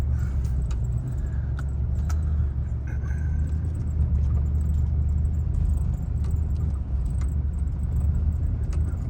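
A truck drives slowly over a rough gravel driveway in Michigan's Upper Peninsula, with a steady low engine rumble, tires crunching, and loose items rattling and jangling in the cab throughout.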